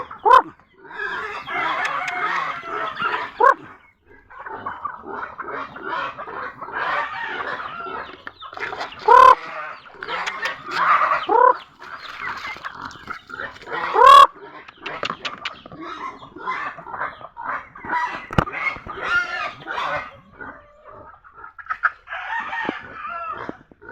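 A flock of chickens clucks and squawks continuously nearby, busy overlapping calls with a rooster crowing in the mix.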